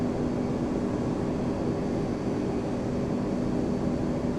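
Boeing 767-300 jet engines idling on a runway in the FSX flight simulator, a steady, loud broadband drone with an even hum that holds unchanged throughout, no voices.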